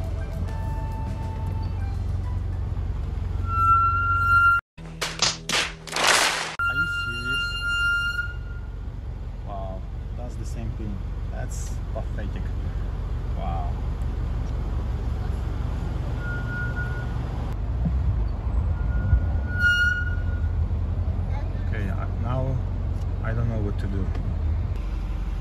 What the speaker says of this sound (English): And right now I'm going to do reverse braking.